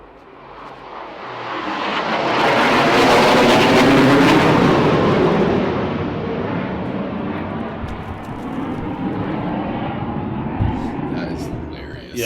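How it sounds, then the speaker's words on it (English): A fighter jet flies over a disc golf course during a European Open tournament round, its broad roaring rumble swelling loud and then slowly fading, heard under commentators talking. "Yeah, that fighter jet."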